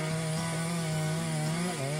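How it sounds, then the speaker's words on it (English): A chainsaw cutting through storm-fallen tree trunks, its engine holding a loud, steady buzzing whine close by, dipping slightly in pitch near the end as it works the wood. "the chainsaw roars powerfully, swiftly slicing through the trunks"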